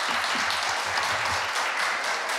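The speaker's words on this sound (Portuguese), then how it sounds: "E eu gostaria de uma salva de palmas para o presidente da mesa." Audience applause for the session chair at a public hearing on drug policy, a steady, dense wash of clapping from a crowded room that holds evenly throughout without any speech.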